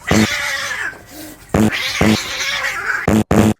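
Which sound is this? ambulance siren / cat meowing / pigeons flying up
cat meowing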